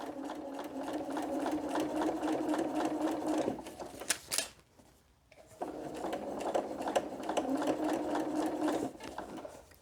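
A sewing machine stitches quilt pieces together at a short stitch length, a steady rapid whirring run that pauses briefly midway with a few clicks, then resumes at the same even pace.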